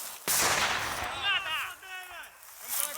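A sharp, loud gunshot cracks out during military tactical training, followed by a rumbling echo with shouting voices and whistling tones trailing after it.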